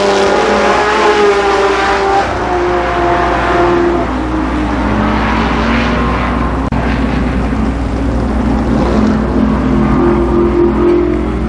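A loud, unbroken roar of sprint car engines racing around Columbus Motor Speedway during a 1992 heat race, with engine pitch swelling and fading as cars pass close by.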